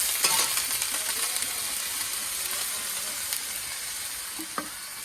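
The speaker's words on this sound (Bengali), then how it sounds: "পেঁয়াজ কাঁচা মরিচ ভাজা ভাজা হয়ে গেছে" Onion and green chili with vegetables frying in a pan in a village kitchen, a steady close crackling sizzle with faint stirring scrapes and a few small clinks, no talk.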